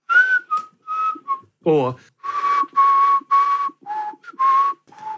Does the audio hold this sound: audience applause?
no